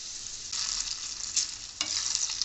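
Chillies fry in hot oil for a pickle tempering, a bright, steady sizzle close to the pan that swells in brief bursts as they are stirred, with no voices.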